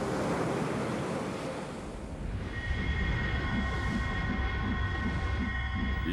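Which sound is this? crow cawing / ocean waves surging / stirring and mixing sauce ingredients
ocean waves surging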